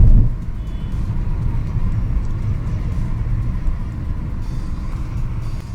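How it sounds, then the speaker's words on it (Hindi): A car on a highway rolls over rumble strips, making a continuous low, heavy drone with steady road rumble and cabin vibration, loud and close throughout. "ये रंबल स्टिप आजकल बहुत चलने लगे हैं जिसमें गाड़ी एकदम हिलने लगती है"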